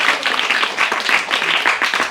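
A class of students clapping together in a yoga lesson, a steady run of many overlapping hand claps at even loudness with no pauses.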